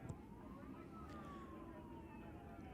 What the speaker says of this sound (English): Now we hear that siren again out there,